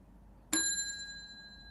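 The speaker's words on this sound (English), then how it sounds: "At least the bell works." A single bright ding of a small bell, struck once and left to ring out with a clear sustained tone that slowly fades in a quiet room.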